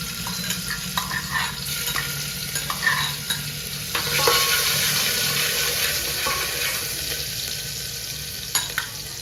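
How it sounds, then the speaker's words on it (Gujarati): Ginger garlic paste fries in hot oil while a spoon stirs it, for a Maggi rice dish. Close, continuous sizzling runs under repeated scraping stir strokes that swell louder partway through, with no talking. "હાલો આ ગયો મસાલો આદુ લસણની પેસ્ટ"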